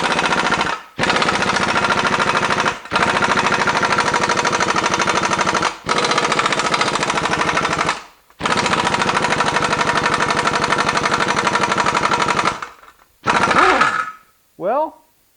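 A NAPA 1/2 inch impact wrench hammers loudly and close on a stuck bolt that won't budge, firing in long sustained rattling bursts separated by brief pauses, ending with two short spins.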